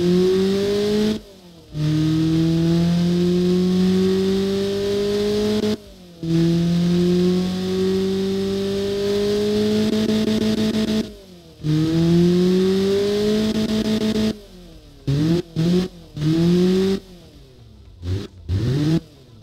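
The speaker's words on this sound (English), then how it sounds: "Now of course it's time to fire it up and let's enjoy some horses." A freshly started Honda D16V1 engine is revved again and again, each rev climbing steadily in pitch before a brief cut. Quicker, choppier blips follow near the end, loud and close with no talking.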